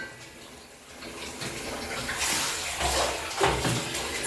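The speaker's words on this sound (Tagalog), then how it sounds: "Paliliguan si Shadow" Water splashes and pours in a rushing, uneven stream while a pet dog is bathed, swelling louder toward the end with no clear talk over it.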